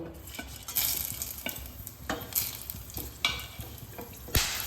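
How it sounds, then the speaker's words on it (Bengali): Bay leaves, dry red chillies, cardamom and cloves tempering in oil already used for frying fish, producing a light crackling sizzle with several sharp scrapes and clinks of a stirring spoon against the pan. "ভাজ ভাজার তেলেই ফোড়ন দিয়ে নেব তেজপাতা শুকনো লঙ্কা এলাচ আর লবঙ্গ"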